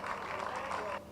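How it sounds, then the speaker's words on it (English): Brief, fairly faint applause from an audience at a poetry slam finals, a dense wash of clapping that drops off near the end. "Please give him a big round of applause."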